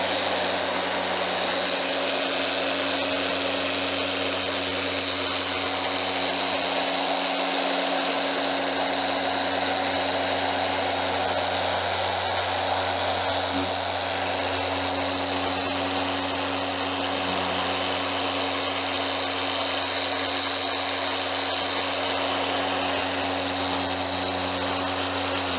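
A power polisher runs at speed 5 on a yellowed car headlight, a loud steady whirring drone with strong constant tones that holds without a break throughout.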